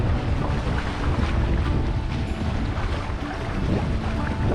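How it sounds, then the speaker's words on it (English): Strong wind blows while sailing on open water, a loud, constant rush buffeting the microphone over the low wash of waves against the hull, with no voices. "We have fantastic wind on the last day here."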